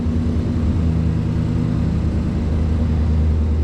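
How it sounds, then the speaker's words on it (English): A 2019 Chevrolet Silverado truck with true dual straight-piped exhaust idles with a steady, deep rumble that holds at a constant level throughout. "decently loud for anybody looking for kind of like the truck that has just a little rumble to it"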